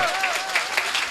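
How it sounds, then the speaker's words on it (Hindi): An audience at a Hindi comedy poetry show claps briefly, a quick patter of applause heard alongside a voice. "तालियां जरा पीछे तक भी हो जाए"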